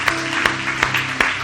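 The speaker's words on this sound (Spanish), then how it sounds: "Así que le damos un aplauso al Señor por eso." A church congregation claps steadily during a sermon, a dense, moderately loud wash of applause with a few sharper accents, and no speech over it.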